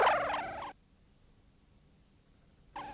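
A loud bird call, gobbling and harsh, cuts off abruptly into near silence, then briefly resumes at the very end.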